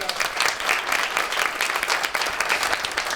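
A studio audience at a Turkish talk show claps steadily and densely throughout, a full round of applause with no pauses.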